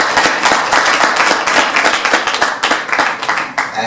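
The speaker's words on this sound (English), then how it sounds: "Let's give a big round of applause." Audience applause at an international coaching and mentoring awards ceremony, loud sustained clapping from a crowd, dense and close, staying steady to the end with a few louder individual claps.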